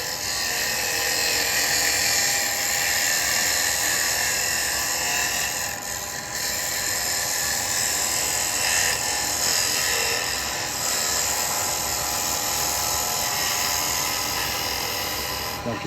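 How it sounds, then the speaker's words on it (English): A carbide detail chisel making a push cut on a wood lathe gives a sustained high, bright whirring and hissing cut over the spinning workpiece, constant and close with slight dips where the tool eases off. "we will come in with our bevel here, and we'll rotate, and we will come in and get a push cut"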